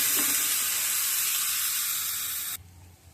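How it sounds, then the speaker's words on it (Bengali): Rice grains frying in a pot for khichuri give a loud, dense hiss that holds steady for over two seconds, then drops abruptly to quiet room noise. "এই যে চালগুলো ভাজা হয়ে গেল"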